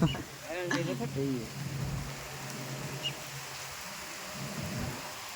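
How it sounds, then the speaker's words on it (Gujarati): Rain and thunder break out at a village fair, a low rumble rolling under steady falling rain, with a voice speaking briefly at the start. "હા પવાયા ભીગાતા વરસાદ ચાલુ થઈ ગયો."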